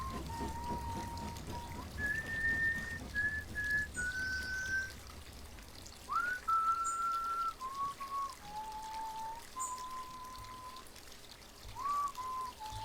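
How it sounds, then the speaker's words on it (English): Someone whistles a slow, wandering tune near a bridge, the notes held and stepping up and down over a steady wash of running water, faint and distant-sounding, with no talk. "I came to a bridge and fell to whistling."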